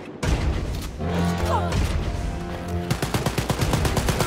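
Gunfire in the video game Wolfenstein: Youngblood comes as rapid automatic bursts and thudding shots, the firing growing into a fast staccato volley toward the end, with game music underneath.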